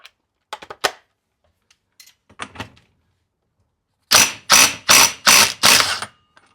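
Impact wrench with a 30mm socket removing the clutch nut on an RD500 engine, a few faint metallic clicks followed by five loud, close hammering bursts in quick succession.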